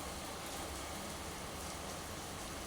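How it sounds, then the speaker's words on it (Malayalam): Heavy rain pours outside, a steady, dense hiss of falling water that holds evenly from start to finish with no voices over it. "നല്ല മഴ ഉണ്ട് കേട്ടോ കൂട്ടുകാരെ പുറത്ത് അപ്പം അതിൻ്റെ ഒരു ശബ്ദം ഉണ്ടാവും"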